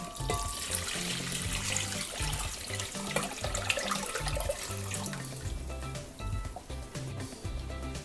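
Tap water runs in a steady, loud gush, splashing and trickling continuously as a container fills for dissolving washing soda in a leaf-skeleton craft.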